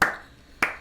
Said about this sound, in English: slow clap for Hunter.